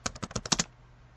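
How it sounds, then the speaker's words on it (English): A short, quiet burst of about eight crisp keystrokes on a computer keyboard in fairly even rhythm, then a faint room hush. "We can also type in our default"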